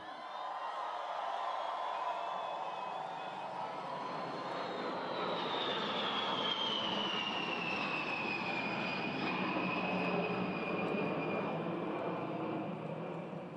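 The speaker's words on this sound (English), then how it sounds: "Yeah, baby, that's a B-52." A B-52 bomber flies over Mount Rushmore during a 250th anniversary celebration, its jet engines a sustained roar that swells and shifts in pitch as it passes, loud and continuous with no talk.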